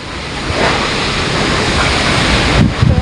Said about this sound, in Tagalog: Wala naman na ulan, kaso mga hangin.